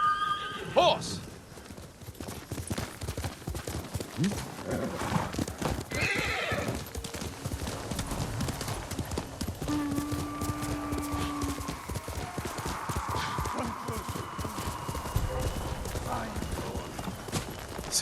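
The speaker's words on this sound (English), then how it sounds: "Horse!" A horse in the Ghost of Tsushima video game gallops with rapid clip-clop hoofbeats and lets out a loud whinny, mixed with game music and ambient sound throughout.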